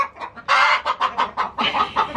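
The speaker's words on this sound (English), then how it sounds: "once they find a nesting box or a nesting area that they really like, they tend to scream and yell and holler" Hens squawk and cackle loudly in a newly bedded barn while seeking nesting boxes, a close, continuous run of repeated raucous bursts with no talking.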